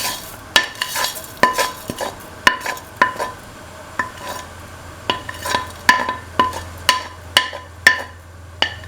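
Vermicelli being stirred into a cooking pot of kidney beans and coconut milk, a spoon scraping and knocking against the pot in a steady rhythm of about twenty sharp strokes, close and loud over a faint simmer.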